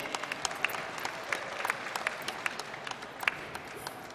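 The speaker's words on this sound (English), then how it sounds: "Make a round of applause for Miss Virginia Small, everybody." A studio audience applauds steadily during a Trinidad comedy skit parodying a daytime talk show, with fairly quiet, even clapping and scattered louder claps throughout.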